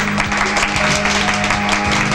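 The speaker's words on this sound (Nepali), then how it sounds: "एउटा जोरदार ताली बजाइदिनु हुन हार्दिक अनुरोध गर्दछु" An audience at a formal family gathering bursts into enthusiastic applause, a dense, steady wash of clapping that carries on throughout.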